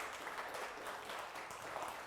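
Church congregation applauding during a Spanish-language Sunday service, a steady dense patter of clapping, fairly soft and continuous, with no voices over it.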